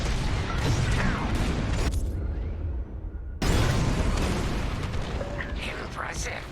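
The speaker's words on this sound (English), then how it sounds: "On my mark, it's bombs away." Bombs exploding during a bombing run in the space-combat game Star Wars Squadrons, heavy booming blasts with rumbling, crackling debris that cut out briefly and then return at full force, loud and close, mixed with game effects.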